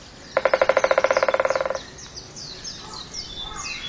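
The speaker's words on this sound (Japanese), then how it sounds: "シイの木の巣からひょっこり顔を出したのはオーストンオオワカゲラ。" Owston's woodpecker at its nest in a chinquapin tree on Amami Ōshima; a loud, rapid burst of about twenty evenly spaced calls or knocks lasting over a second, then quieter forest birdsong chirping in the background.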